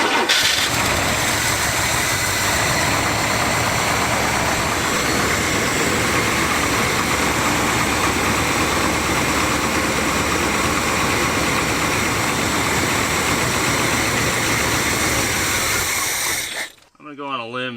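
A big block GMC truck engine cranks and runs on a gallon of gas poured into the tank, a loud, steady mechanical roar sustained for many seconds before cutting off abruptly near the end.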